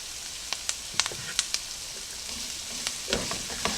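Minced garlic frying with onions in a pan makes a low steady sizzle marked by sharp crackles and pops at irregular intervals, close up and with no talking.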